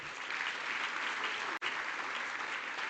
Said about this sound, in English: let's show them some love with the loudest round of applause